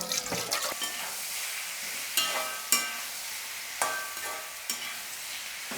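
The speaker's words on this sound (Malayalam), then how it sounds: "നമുക്ക് ജസ്റ്റ് ഇത് ഈ നെയ്യിൽ കിടന്നൊന്ന് കുറച്ച് ജസ്റ്റ് ഒന്ന് കളർ മാറണം" A banana mixture sizzles gently in hot ghee while a spoon stirs and scrapes the pan in a few distinct strokes, close up.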